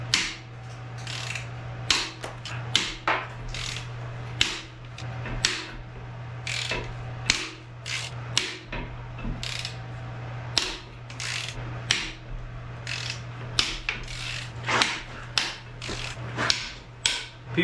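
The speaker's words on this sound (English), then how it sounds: "all the bolts on these Atlas motors are extremely tight and sound like they're breaking" A ratchet cracks loose tight girdle bolts on a seized Atlas engine from a 2011 Chevrolet Colorado, a close series of sharp clicks and snapping bursts repeating irregularly over a steady low hum.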